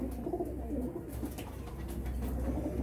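Domestic fancy pigeons coo steadily close by, soft low throaty calls overlapping one another over a faint background hum, with no talking.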